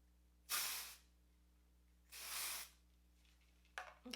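Hair spray blasts onto the top of the hair in two sustained hissing bursts about a second apart, followed by a brief third spritz, close and fairly loud against a faint steady background hum.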